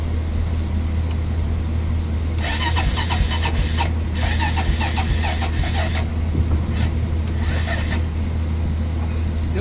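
A Honda 400ex ATV with electrical faults runs with a steady low engine drone, then breaks into loud rough bursts of revving and clatter for several seconds before settling back.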